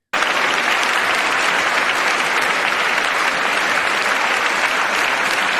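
Loud, sustained applause from a large chamber audience at the 2024 State of the Union address: a dense, unbroken roar of clapping that begins abruptly and holds at full strength throughout.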